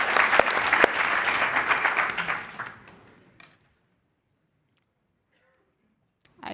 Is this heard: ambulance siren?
no